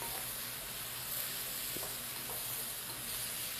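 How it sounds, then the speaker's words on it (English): Wine hits a hot pan of crispy garlic, and a steady, hissing sizzle follows as the pan is scraped. The frying noise runs continuously and fairly quietly, with a few soft scrapes and clicks, for a few seconds. "We're going to hit this with 1/3 cup of wine."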